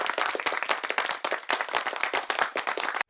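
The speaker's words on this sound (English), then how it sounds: "We use our hands to clap." Hands clapping in a brisk, dense run of close, sharp claps that carries on for about three seconds and stops abruptly.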